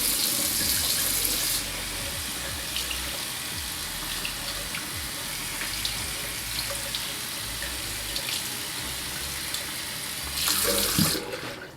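Tap water running steadily over the outside of a Lerway touch screen water resistant glove, a continuous splashing hiss that shifts slightly as the glove moves under the stream.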